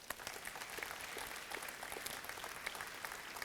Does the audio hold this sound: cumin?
no